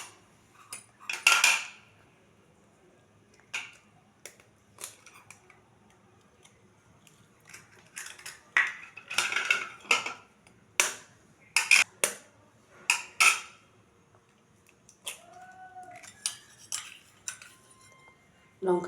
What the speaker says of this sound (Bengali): এখন আমি এই ডিমগুলো ফাটিয়ে নেব।